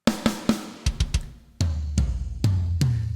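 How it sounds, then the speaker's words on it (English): Death metal drum kit from EZdrummer 3 software, alone and loud: a quick run of sharp tom and snare hits with booming low bass drum, then heavy kick-and-cymbal strikes ringing out at a slower, steady pace. "But this is the death metal kit and it sounds like this."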